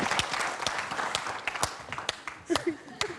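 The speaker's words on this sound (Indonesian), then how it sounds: "Tepuk tangan." An audience at a youth Q&A event applauds, a dense run of claps with sharper individual slaps, while voices carry over it.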